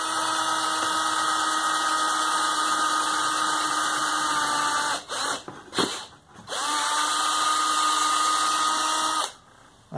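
An electric drill bores a hole through a bamboo wall-mounted cutlery holder, a loud steady high whine that stops and restarts briefly twice, then cuts out near the end.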